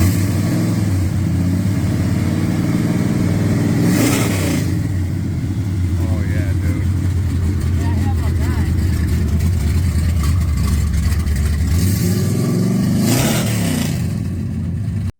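The big-block 440 V8 of a 1967 Dodge Coronet convertible rumbles loudly and continuously, with a few sharper revs rising out of the steady low drone.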